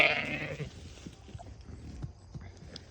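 Sheep bleating in a paddock, one loud nearby bleat at the start fading into quieter outdoor ambience with faint rustling and distant animal sounds.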